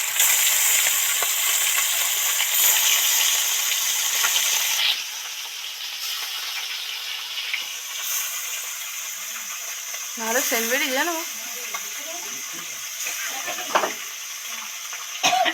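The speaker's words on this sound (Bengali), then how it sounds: "আর কিছুটা মাছ তেলের মধ্যে দিয়ে দিচ্ছি" Amudi fish deep frying in hot oil, a loud bubbling sizzle that drops to a quieter steady hiss partway through, with brief speech and a few utensil clinks over it.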